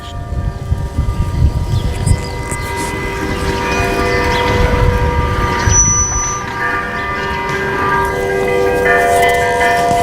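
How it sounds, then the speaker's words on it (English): Bells ring in the Jewish Quarter of Jerusalem's Old City at dusk, a steady, sustained ringing with lingering tones mixed into the busy outdoor ambience of the streets, with no talk. "Do you hear the bells?"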